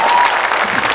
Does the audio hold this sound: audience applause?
yes